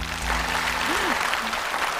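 A studio audience at a televised cultural program breaks into applause, a full, steady burst of many hands clapping, with a brief voice sounding faintly over it.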